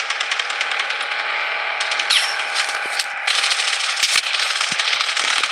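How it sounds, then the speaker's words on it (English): Rapid, crackling gunfire from a Blood Strike battle royale match rattles on continuously at close range, with a few sharper bursts and clicks standing out over a steady din. "Taking fire."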